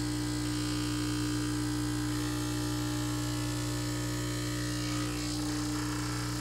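A Delonghi Stilosa EC260BK espresso machine running, giving off a steady, close electric buzz and hum that holds evenly throughout without pause.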